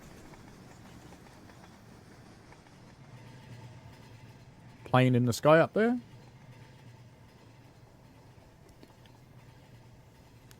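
Low, steady rumble of a train running along the rails behind the player in the Rolling Line model railway game, continuous under the clip while someone talks briefly in the middle.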